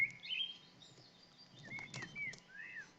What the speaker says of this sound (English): Let me know if the bird sounds are too loud now